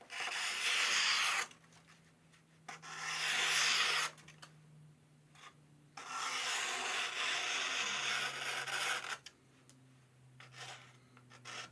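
A knife is sharpened on a black Arkansas stone in long rhythmic stroking passes, each lasting one to two seconds, separated by brief pauses, with a low steady hum beneath.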